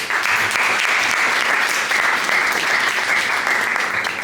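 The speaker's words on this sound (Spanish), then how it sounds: "Fuerte aplauso, por favor" A roomful of people at a round-table event applauds loudly and continuously, a dense, even wash of clapping that holds steady throughout.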